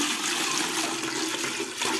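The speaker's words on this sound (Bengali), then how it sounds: "বন্ধুরা পুজো দিয়ে এসে এখন ফিল্টারে জল দিয়ে দিচ্ছি।" Water is poured into a household water filter, a short, steady splashing rush of liquid heard close by without any talk.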